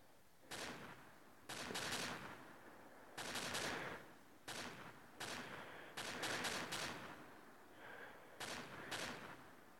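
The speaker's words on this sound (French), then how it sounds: "il y a la mitraillette." Machine gun from a weapon mod in Minecraft Pocket Edition, firing in repeated bursts of rapid shots separated by short pauses, loud and close throughout with no talking.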